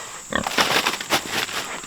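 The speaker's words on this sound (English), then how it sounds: "We're gonna feed the pigs all of the corn husks. They enjoy them." Pigs snort and grunt over a rustle of crunching as they eat corn husks from a bucket, several short bursts of noise close by with no talk.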